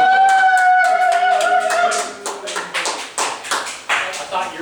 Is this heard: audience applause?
yes